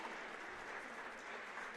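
Home crowd at a girls' private school all-star basketball game applauding steadily, a dense, even wash of clapping heard from a distance throughout.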